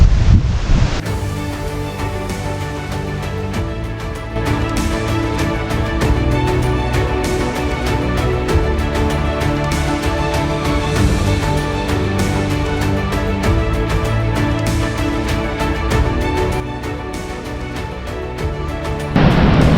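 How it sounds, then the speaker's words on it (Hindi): A Himalayan waterfall fed from Hemkund Sahib, near Kargi on the Kagbhusandi trek in Uttarakhand, roars as a loud, steady, broadband rush of falling water mixed with wind buffeting the microphone. "ठीक मेरे पीछे एक झरना दिखाई दे रहा है।"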